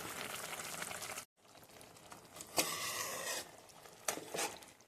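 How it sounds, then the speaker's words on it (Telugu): A pot of fish curry bubbles steadily on low heat, soft popping and pattering with a few louder bursts, no voices. "తమాసగా ఉడుకుతూ ఉందండి"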